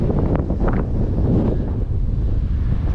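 Strong gale-force wind blows on a beach, roaring and buffeting the microphone continuously with gusty low rumbling, surf faintly mixed in and no talk.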